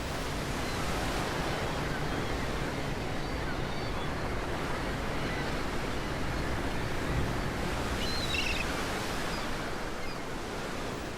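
Rough open sea near Antarctica, a steady roar of waves and surf with wind buffeting around a ship, dense and continuous throughout with no distinct breaks.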